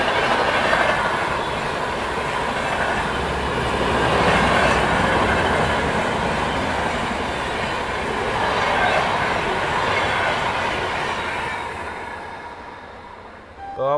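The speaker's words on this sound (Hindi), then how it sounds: "तो अब आ रही है हावड़ा नई दिल्ली राजधानी, इंडिया की फर्स्ट राजधानी एक्सप्रेस" An Indian Railways train, the Howrah New Delhi Rajdhani Express, rushes past with a loud, steady roar and rumble of wheels lasting over ten seconds, fading near the end.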